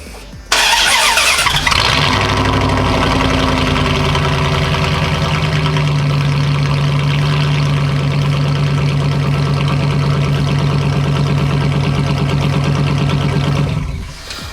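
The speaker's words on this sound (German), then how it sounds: "ohne den Endtopf klingt das Auto dann so" A Dodge Ram V8 pickup starts with a loud crank and then idles rough and throaty with its muffler removed, a deep open rumble that runs steadily before stopping.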